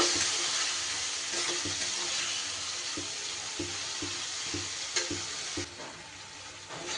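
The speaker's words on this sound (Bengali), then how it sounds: "সব এবার মশলা খুব ভালো করে কষিয়ে নেব" Ground spices with turmeric and a splash of water sautéing in a pan for a vegetarian Bengali stalk, potato and pumpkin dish, a steady close sizzle broken by the scrape and clack of a spoon stirring at intervals.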